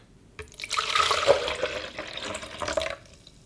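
Milk poured into a blender for cherry clafoutis batter, a continuous close gurgling stream that swells quickly, holds for about two and a half seconds, then stops abruptly.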